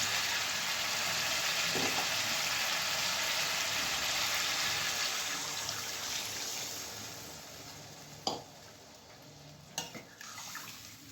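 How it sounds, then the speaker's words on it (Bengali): Water and pieces of katla fish go into a pan of sizzling fried spice paste for a curry made without onion or garlic, a steady hiss fading over several seconds, followed by a few sharp utensil knocks near the end. "মশলা কষা হয়ে গেছে, এবার মাছ দিয়ে জল দিয়ে দেবো"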